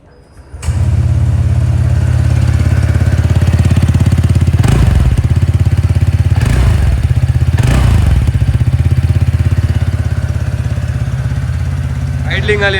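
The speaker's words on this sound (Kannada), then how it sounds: "ಸೈಲೆನ್ಸರ್ ನೋಟ್ ಒಂದು ಕೇಳ್ಕೊಂಡು ಬರೋಣ ಯಾವ ತರ ಬರ್ತದೆ ಅಂತ." A TVS Ntorq 125 scooter engine fires up after a brief quiet moment and settles into a loud, close, steady idle from its exhaust, with a few short throttle blips raising the note before it drops back to idle.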